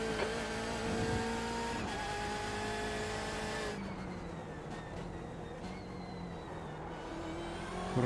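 A race car engine drones steadily at high revs while the car laps in the iRacing simulator, its pitch stepping up and down with gear changes and throttle, a continuous mechanical whine with some tire noise.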